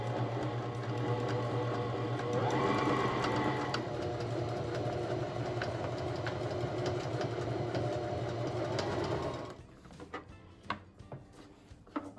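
A sewing machine hums steadily and loudly nearby as it stitches curtain fabric, then stops, leaving a few faint clicks and handling noises.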